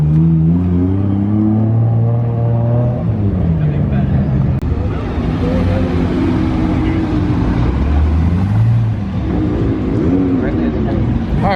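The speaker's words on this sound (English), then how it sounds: "That's a Rift exhaust for anyone that's asking in the comment section." A full-carbon Nissan GT-R fitted with a Rift exhaust revs at an early-morning car show, its deep exhaust note swelling and falling in several pulls, loud and close, with people talking over it.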